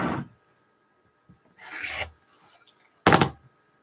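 Fabric quilt block for a modified shoofly pattern being trimmed, with a few short rasping cuts spaced apart, one brief scrape near the start and a louder burst near the end, close by and without talk.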